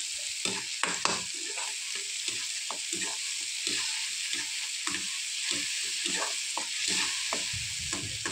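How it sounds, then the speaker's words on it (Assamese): Onion with salt fries in a pan for an Assamese fish kharoni, a steady soft sizzle under repeated scraping stirs of a spatula, close and fairly quiet throughout. "এইখিনিকে মই ধুনীয়াকৈ ভাজিলোঁ"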